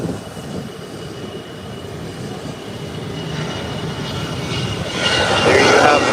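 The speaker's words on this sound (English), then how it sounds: "here comes American Airlines tunneling down the runway. This should be a short and easy takeoff." An American Airlines airliner rolls down the runway on its takeoff run, a steady broad engine roar that builds in loudness and rises toward the end, heard from a distance.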